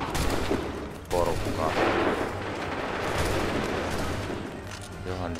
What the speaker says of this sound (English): Prepare yourselves! Open fire!